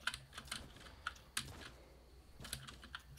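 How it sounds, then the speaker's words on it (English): Loud computer keyboard typing during a Fortnite Zone Wars session, with close, clattering bursts of keystrokes in short clusters separated by brief pauses. "I guess keyboard is loud as hell"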